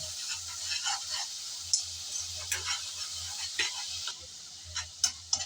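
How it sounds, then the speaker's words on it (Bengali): Spice paste for a pabda fish curry with tomato being stirred and fried in oil, a soft continuous sizzle with repeated light scrapes and taps of a spoon against the pan, faint and close. "কিছুক্ষণ আমি নেড়ে চেড়ে ভালোভাবে মশলা কষিয়ে নিলাম"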